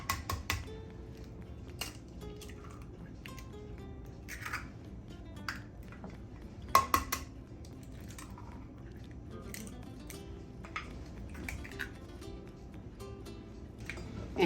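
Eggs cracked one at a time into a huevos rancheros casserole dish over salsa. Sharp little taps and cracks come in scattered bursts, with faint kitchen clatter between them, close and fairly quiet.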